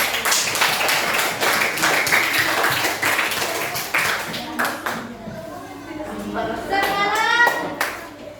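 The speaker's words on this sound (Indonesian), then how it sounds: "Sekarang beri tepuk tangan buat kelompok ini." Children in a classroom clap for a group that has just presented, a dense burst of hand claps for about five seconds, then fading into children's chatter and a raised voice near the end.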